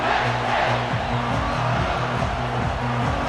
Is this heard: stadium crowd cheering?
yes